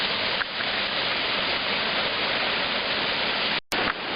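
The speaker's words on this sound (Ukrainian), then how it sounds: "Ми зараз з вами попали на Шепітський водоспад одноіменний" Loud, constant roaring rush of the Shepit waterfall in Ukraine, close and unbroken, with a brief cut near the end.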